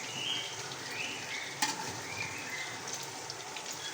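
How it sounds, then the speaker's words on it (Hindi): Chicken sizzles steadily while frying in a pan, a continuous close hiss with a single sharp clink of utensil partway through, no voices. "इसलिए मैं जल्दी फ्राई कर रही हूँ"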